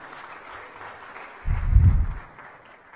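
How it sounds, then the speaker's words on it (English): Conference delegates applaud themselves, a faint background patter of clapping with a brief louder low-pitched rumble in the middle, then settling back to a light scattered clap. "A round of applause for yourselves, please."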